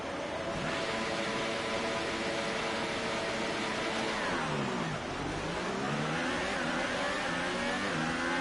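Formula One car engine in the F1 2018 video game revving hard at a race start, a loud sustained whine climbing and falling in pitch with a dip and surge partway through, continuous without speech.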